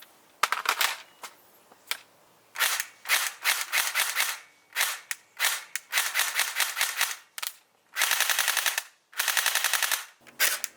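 A cheap airsoft rifle fires clattering bursts, from single snaps to rapid full-auto strings, in a quiet indoor space, with brief pauses between volleys and two long sustained bursts near the end.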